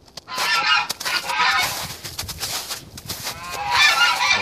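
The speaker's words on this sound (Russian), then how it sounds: "Ну, вот опять гуси загоготали." Geese honking repeatedly outdoors on a sunny day, a loud, continuous chorus of harsh calls with bursts rising and falling across the stretch, no talk over it.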